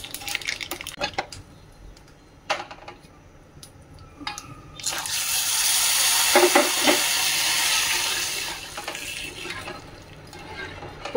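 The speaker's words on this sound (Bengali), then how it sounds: "তো এটাকে ভালো করে এই যে ভেজে নিচ্ছি।" Mashed potato mixture frying in a pan for a Diwali-season home meal, a steady broadband sizzle swelling in the middle of the clip amid clinks of a spoon against the pan, heard close with no talk.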